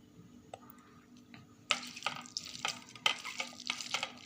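Mashed bhorta mixed by hand with mustard oil makes wet, squelching squishes that start after a quiet moment and come in a quick, irregular rhythm, close and moderately loud.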